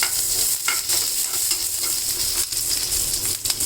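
Two green chilies sizzle in hot ghee for a tempering while a spoon stirs them, a steady close frying hiss broken by irregular scraping strokes.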